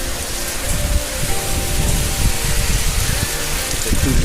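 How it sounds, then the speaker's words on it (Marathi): Heavy rain pours down steadily in a village near Ratnagiri, a loud, dense hiss of drops hitting surfaces that continues without a break. "सकाळी उठलो तेव्हा पाऊस खूप पडायला लागला"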